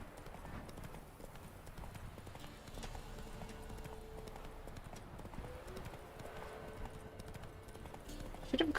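Roach the horse gallops through The Witcher 3 game world, steady rapid clip-clop hoofbeats running continuously, fairly close and moderate in level with a brief louder thump at the end.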